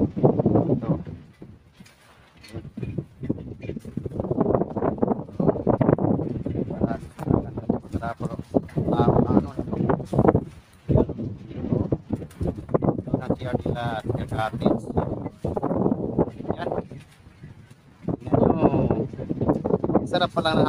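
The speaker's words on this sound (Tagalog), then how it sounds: "Sarap pala ng hangin dito mga crapper." Gusty wind buffeting the microphone in uneven bursts while someone talks over it outdoors.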